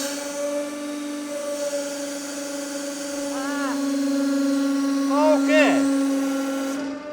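A hydraulic press hums steadily as it bears down on a brass cylinder, with brief squealing creaks near the middle and end as the metal yields; one short spoken word sits over the machine noise.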